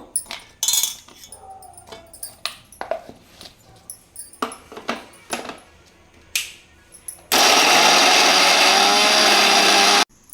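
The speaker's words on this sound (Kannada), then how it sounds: "ಅದನ್ನು ಮಿಕ್ಸಿಗೆ ಹಾಕ್ಕೊಂಡು ನುಣ್ಣು ರುಬ್ಕೋಬೇಕು" An electric mixer grinder pulverizes half a kilogram of onions into a fine paste, running loud and steady for about three seconds at the end, after a run of clinking utensils and kitchen clatter.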